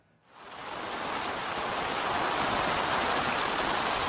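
Steady rain pours down in Rondônia, Brazil, a dense, even hiss that swells in after a brief quiet start and then holds loud and constant with no voices.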